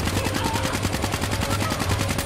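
Rapid automatic fire from the ICR-1 assault rifle in Black Ops 3, a loud, dense and continuous burst of evenly spaced shots with rumbling low-end weight and no pauses.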